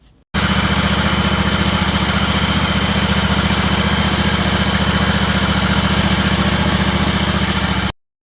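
A big Vanguard engine idles loudly and close, heard near its exhaust outlet. The steady, even rumble starts abruptly and holds without change for about eight seconds before cutting off.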